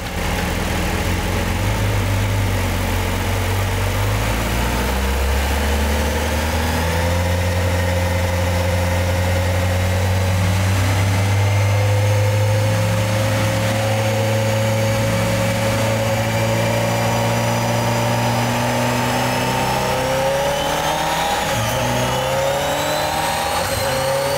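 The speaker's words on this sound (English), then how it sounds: "start the engine, and place it on a test bench that can simulate driving conditions" A Honda motorcycle engine runs continuously at close range on a factory test bench, its pitch rising and falling through several revving steps as if shifting through speeds, with no voices.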